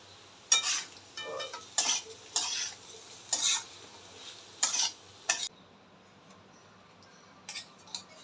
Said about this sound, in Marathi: पोटॅटोही चांगला फ्राय करून घ्यायचा